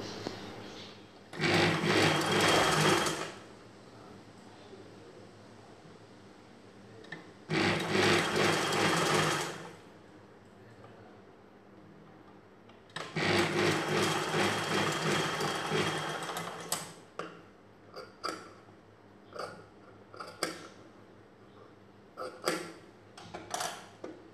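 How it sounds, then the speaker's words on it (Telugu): A sewing machine stitches cross-cut blouse pieces together in three loud runs of rapid stitching separated by pauses, ending in a series of short stop-start bursts, with no speech. "క్రాస్గా కట్ చేసుకున్న పీసుల్ని ఇలా క్రాస్గా కుట్టుకుని జాయిన్ చేసుకోవాలి."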